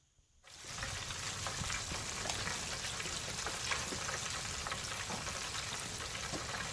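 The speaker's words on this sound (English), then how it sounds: "I'm going to go ahead and take it outside and fry it." French fries, already parboiled in an air fryer, frying outdoors in hot oil: after a brief silent start, a loud, steady, dense sizzle with fine crackling pops carries on unbroken, close and with no voices.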